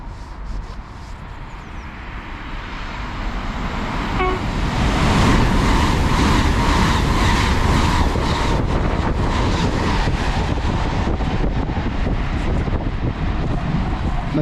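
A Class 801 train from London King's Cross to Edinburgh roars past at close range through Stevenage, rumbling loudly and steadily for the whole stretch, with a brief horn note from the driver sounding early on.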